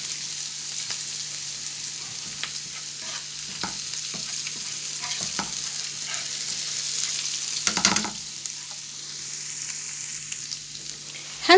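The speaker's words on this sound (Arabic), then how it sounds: "حطيت الزيت وهنزل بالثوم عشان نعمل الصلصة على طول" Garlic sizzles in hot oil in a pan as the base for a tomato sauce, a steady close frying hiss with occasional stirring scrapes and no voices.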